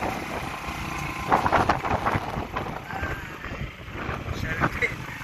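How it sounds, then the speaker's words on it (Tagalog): Strong wind buffeting the microphone at Balbalungao dam, a steady gusty roar with sharper bursts around the middle, heard outdoors with people talking faintly beneath. "Lakas ng hangin."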